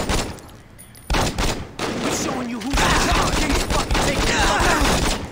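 Saints Row video game gunfire, repeated shots in rapid bursts mixed with impacts and game action, loud and continuous through most of the stretch, with some voice sounds among them.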